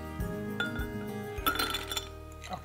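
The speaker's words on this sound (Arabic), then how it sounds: "هلا رح نضيف الثلج." Ice cubes dropped into a glass for a Libyan-style tahini and milk drink, a few bright clinks and knocks against the glass in quick succession, close and fairly quiet, with no talk.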